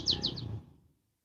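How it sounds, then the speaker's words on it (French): A bird gives three quick, bright chirps in a row, clear and fairly close, then fades out into silence. "il y a des chants d'oiseaux aussi en France"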